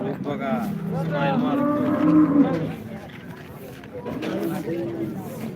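Cows low at the Modnimb cattle market, a drawn-out moo swelling and fading over a few seconds, then a second call, with people talking throughout.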